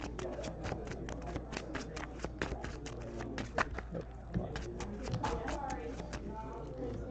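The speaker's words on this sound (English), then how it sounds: "I'm shuffling" Playing cards are shuffled by hand during a Dragonball Z card game, a run of quick riffling snaps and soft slaps close by, with players talking quietly in between.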